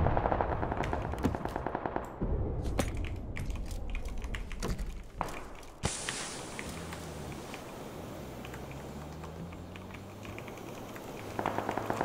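Rapid video game gunfire in a multiplayer shooter, dense bursts of automatic shots crackling loudly in the first half, then a steady mechanical hum with scattered softer shots and clicks.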